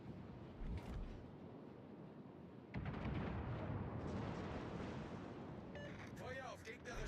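Warship guns fire in a naval video game, giving a deep booming blast that swells into a long rumbling roar, with a muffled earlier thud and in-game voices and tonal effects near the end, fairly faint overall.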